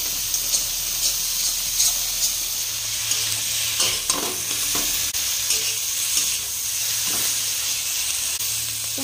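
Taro flower and shrimp are stir-fried until dry in a village kitchen, a continuous close sizzle and hiss broken by repeated scraping stirs and soft clinks of a spatula against the pan.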